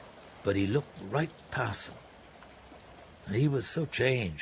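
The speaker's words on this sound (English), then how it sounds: "sorry about the rain." Steady rain patters as a soft continuous hiss in the background while a man reads aloud over it in an even voice.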